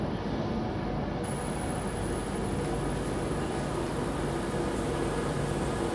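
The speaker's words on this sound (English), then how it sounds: "It's a long train." A long train passes in Stockport, producing a constant, dense rumble and rolling roar at steady loudness for the whole stretch, with no break or fade.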